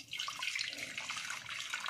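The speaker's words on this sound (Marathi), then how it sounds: "आपल्याला हे जे पनीरचं पाणी आहे ते गाळून घ्यायचं" Paneer whey poured through a cotton cloth while making homemade malai paneer: a close, steady splashing trickle of liquid for a couple of seconds, with no voices.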